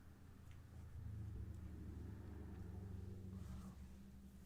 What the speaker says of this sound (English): I just heard a car drive by.